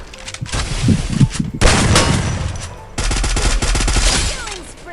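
Loud bursts of rapid gunfire in several volleys, crackling automatic shots close up in the video game Free Fire, with a brief voice between bursts.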